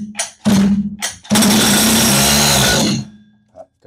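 A small engine is yanked with its pull cord, coughs briefly, then fires into a loud, high buzzing run for under two seconds before dying abruptly.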